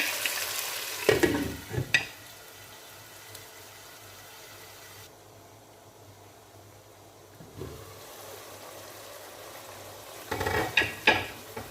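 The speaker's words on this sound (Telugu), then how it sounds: "ఉప్పు వేసాం కాబట్టి టమాటా దున్న వేగిపోతుంది ఫ్రెండ్స్. ఇప్పుడు కొద్దిసేపు అలా వేగనిద్దాం." Tomatoes with salt frying in a pan for chicken biryani, a low steady sizzle with a few louder bursts of stirring near the start and again toward the end.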